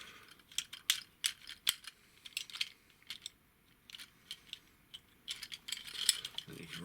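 The joints of a Transformers Combiner Wars OffRoad toy ratchet as they turn, giving a quick irregular run of sharp plastic clicks, loud and close with quiet gaps between bursts, and no one talking over them.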